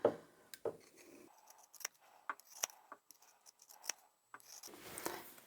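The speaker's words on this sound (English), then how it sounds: "clip into the curve You can trim it back a little bit more if you feel you need to" Scissors clip and trim a fabric seam allowance around a curve on a handbag, a series of sharp, close snips spaced irregularly in a quiet room, with some soft rustling of fabric.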